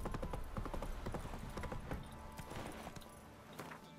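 Horse hooves beat in a fast, steady clip-clop as a mount gallops along a road in The Witcher 3, dense and continuous for the whole stretch, with no voice over it.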